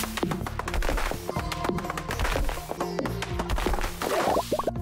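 Crops are chopped down in Stardew Valley, producing a quick series of crisp, light whacks in a loose rhythm over the game's tonal background music and effects.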